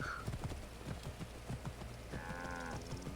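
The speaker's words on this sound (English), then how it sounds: "So technically, I'm not sure what kind of horse we're riding." Horse hooves from the video game Assassin's Creed Origins clip-clop in a steady trotting rhythm while the horse is ridden, with a brief whinny-like tone and some game ambience around it.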